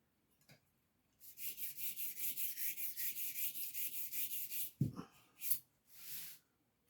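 A blade is worked across a sharpening stone and then onto its side in a quiet, steady run of rapid scraping strokes, followed by a knock and a few separate rasps, close and faint with no talk.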